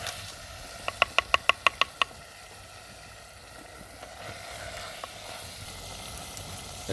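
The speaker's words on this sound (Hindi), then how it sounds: "अच्छी तरह मिक्स करें और इसको भूनेंगे।" Spices frying in a potato and mutton curry, a soft, steady sizzle under a quick series of about seven sharp metallic taps near the start, then a few scattered scrapes.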